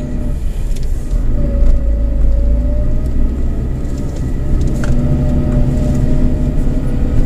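A Daihatsu All New Terios with a 1.5-litre, 1500 cc engine hums and rumbles steadily as it climbs a hill, heard from inside the car as a continuous, fairly loud drone with no talking.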